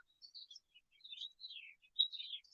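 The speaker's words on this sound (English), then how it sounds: "this bird keeps coming back every day" A small songbird chirps in a garden, giving a run of quiet, high-pitched tweets and short calls spread across the moment with brief gaps, fairly faint and with no other sounds around it.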